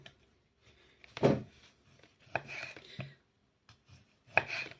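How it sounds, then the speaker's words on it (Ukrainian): A knife slicing through sausage on a cutting board for a cheap quick salad, several distinct close chopping strokes spaced apart with quiet gaps between. "Чистимо ковбаску, нарізаємо"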